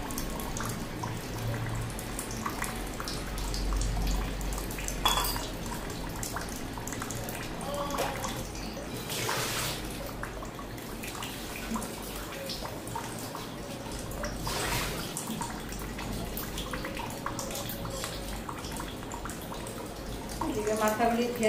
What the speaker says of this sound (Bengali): মাথাগুলি ধুয়ে নিলাম